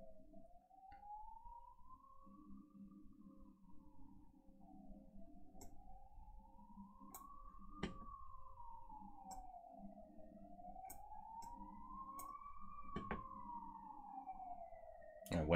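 An ambulance siren wails steadily outside, its slow rising and falling tone repeating across the whole stretch. It stays faint and distant, with a low murmur and a few sharp clicks nearby.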